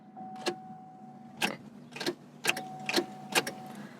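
After a car's ignition key is turned on without starting, a relay inside clicks five or six times in a slow, uneven ticking, with a faint electrical whine between clicks in an otherwise quiet cabin.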